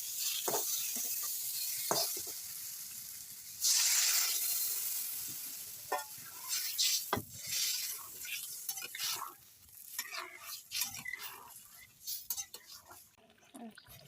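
Vegetarian curry, cooked without onion or garlic and with fried lentil dumplings, sizzles in a pan as water is poured in, a loud hiss bursting up then settling into bubbling with scattered stirring clatter.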